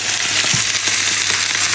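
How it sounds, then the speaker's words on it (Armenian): Chicken pieces fry in a pan for an Armenian chicken-and-vegetable dish, giving a steady, close, unbroken sizzle with faint clinks and no talking. "երկու կողմից քիչ կտապակեմ"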